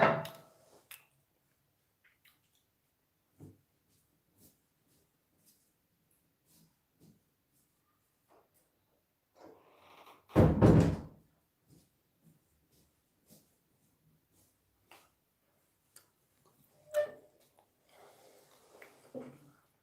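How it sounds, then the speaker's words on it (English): A door is shut indoors with a single solid thump partway through, surrounded by quiet room sounds and a few small clicks. "Let me close this door."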